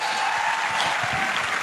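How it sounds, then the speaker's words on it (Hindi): Audience applause at a seminar or meeting hall, a steady patter of many hands clapping at once, moderately loud and continuous for a brief moment with no voices over it. "अरे भाई साहब ताली तो बजा दो यार"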